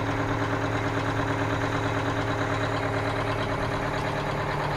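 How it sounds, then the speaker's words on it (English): A Detroit diesel in an Aerodyne cabover truck that sat for 27 years idles with a steady, even rumble and a fairly quiet, muffled note, running continuously without change. "it's hard on a Detroit to sit and idle"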